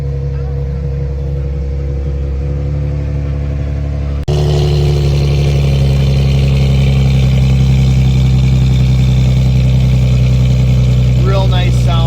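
A manual-transmission car with push-button start idles with a loud, steady low rumble that steps up abruptly to a fuller, louder drone partway through and holds there.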